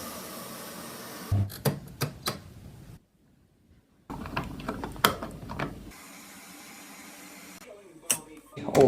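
Dial on a washing machine being turned through its spin speed settings, a handful of sharp, close clicks spaced irregularly, with quiet stretches and a faint background hum between turns.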